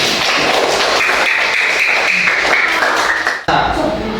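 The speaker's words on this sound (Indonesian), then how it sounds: "Tepuk tangan untuk kita semuanya." Hands clap during an online class session, a run of irregular claps and light taps over a steady background tone, with a brief dip in the sound near the end.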